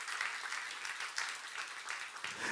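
Steady applause from a church congregation during a sermon fills the space, dense and continuous with no one speaking over it.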